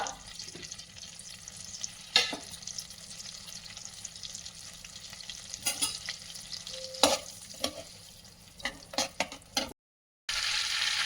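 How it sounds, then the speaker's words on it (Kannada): Oil and butter heating together in a pan for palak paneer, a soft, steady sizzle with faint stirring scrapes and occasional small clinks, fairly quiet, with a brief silent gap near the end. "ನೋಡಿ, ಎಣ್ಣೆ ಬೆಣ್ಣೆ ಎರಡೂ ಕಾದಿದೆ"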